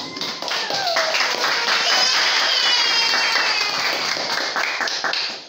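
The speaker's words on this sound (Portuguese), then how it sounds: "palmas para ele" A church congregation breaks into sustained applause, hands clapping densely and evenly for several seconds, with a faint whistle-like tone riding over it before it tapers off.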